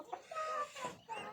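Newly hatched chicks, fourteen of them hatched under a country hen, chirping under a brooding lamp: a few bright, high peeping calls in quick bursts, close and fairly quiet, without talk.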